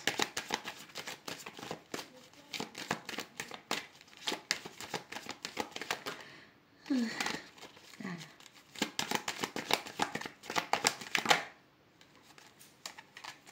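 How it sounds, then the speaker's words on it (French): Tarot-style cards are shuffled and drawn from a deck, rapid close riffling and flicking bursts with a short pause midway, with a voice speaking briefly in between. "Laisse-moi prendre deux dernières cartes."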